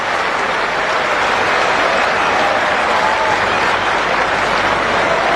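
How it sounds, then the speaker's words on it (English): Cricket teammates applaud a batsman reaching his fifty in a tight run chase, with warm, steady clapping sustained throughout at close range and no speech on top. "Warm applause from his teammates."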